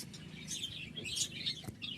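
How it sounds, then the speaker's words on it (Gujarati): A small parrot at a resort gives a few quick, high chirping calls close by over a quiet background, lasting only a couple of seconds. "જોઈ શકો છો ક્યુટ પોપટ છે ગાઈસ."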